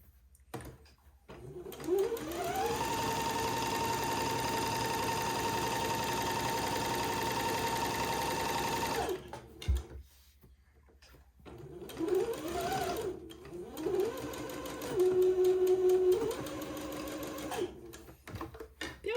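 A sewing machine runs a long steady stitching burst while sewing a narrow French seam in fabric, then stops and restarts for several shorter whirring runs, close and clear.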